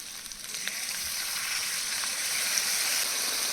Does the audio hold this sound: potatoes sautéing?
yes